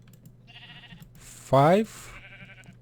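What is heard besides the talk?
sheep bleating when punched in Minecraft video game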